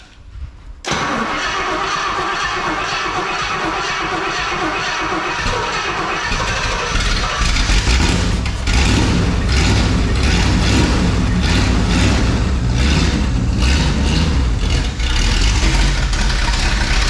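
A 1971 Rolls Royce Silver Shadow engine starting from quiet with a sudden crank-and-catch, then running at a steady, loud idle that grows slightly richer partway through, close up with no talking.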